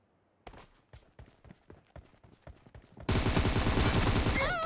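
Gunfire in PUBG Mobile, a rapid series of sharp single shots in quick rhythm, then a dense, loud burst of sustained fire and impacts, close and without talk.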